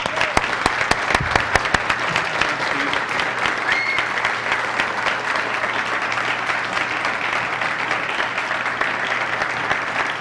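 A lecture audience applauds steadily to welcome UFO researcher Stanton Friedman, a dense continuous patter of many hands from a full room, with a few sharper claps near the start.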